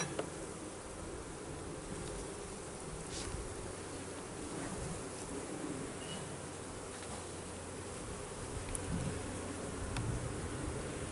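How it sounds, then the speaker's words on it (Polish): Honey bees buzz at a hive on a cold spring day during queen release. A continuous, close, moderately soft drone of many wings carries on without talk. "pszczoły się zachowują tak, jakby tu była matka"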